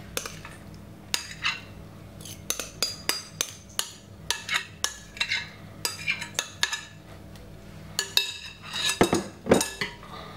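Jamaican-style potato salad being moved into a clean bowl, with a spoon or utensil clinking and scraping against dishes in a quick irregular series of sharp close knocks, growing denser toward the end, without speech.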